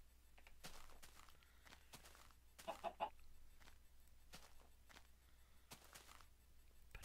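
Chickens in the video game Minecraft give a few short, faint clucks amid quiet background noise and scattered soft footstep-like taps.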